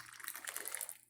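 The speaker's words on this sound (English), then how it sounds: "pour the rest of our hot water in here, get the mug nice and hot" Hot water is poured into a coffee mug to warm it, a brief quiet splashing trickle lasting about a second over a faint low hum.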